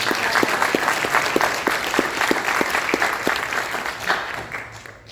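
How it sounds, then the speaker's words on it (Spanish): A room of attendees at a banking confederation meeting applauds lawyer Javiera Aravena, close, loud clapping with distinct individual claps in a steady rhythm that gradually fades out toward the end. "Un aplauso para Javiera."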